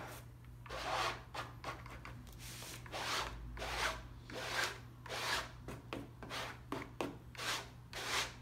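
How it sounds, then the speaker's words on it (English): A palette knife spreads gesso across canvas in repeated scraping strokes. The soft rasping swipes come in an irregular rhythm and sound close and quiet, with no voices. "when you're using a palette knife like this, one of the important things is, honestly, it's the noise"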